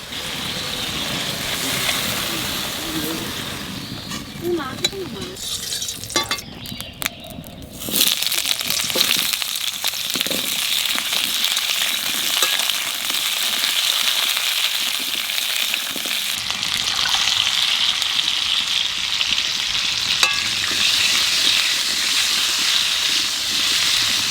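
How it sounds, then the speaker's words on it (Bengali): Potatoes fry in hot oil with a close, steady sizzling hiss; a brief dip and some scraping come early, then the crackling sizzle swells louder and continues evenly to the end. "তো জিঙ্গেটা নামাই খেয়ে সাথে সাথে আলুও ভাজি নেবো"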